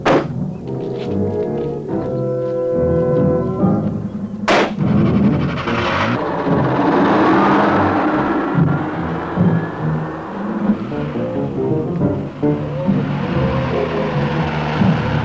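A 1960s car engine roars and revs as the vehicle pulls away, loud and close, with thuds and rumbling mixed into a busy film soundtrack.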